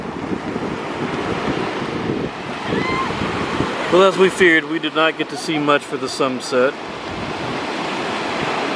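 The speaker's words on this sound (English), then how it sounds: "at least we have some nice waves to listen to." Ocean surf washes onto the shore at sunset on the Gulf coast near Dunedin and Clearwater, a steady broadband rush mixed with wind buffeting the microphone, with a person talking over it through the middle.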